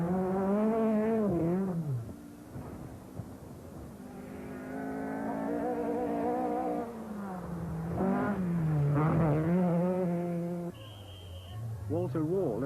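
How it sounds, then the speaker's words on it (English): Ari Vatanen's Opel Group B rally car at the 1983 Acropolis Rally, passing through the tiny village of Lukesia, its engine note rising and falling loudly in sweeping revs. "Ari Vatanen's Opel is the first car through the tiny"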